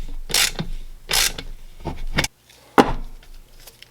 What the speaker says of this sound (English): I'm going to be using a 9/16 socket just to drive it in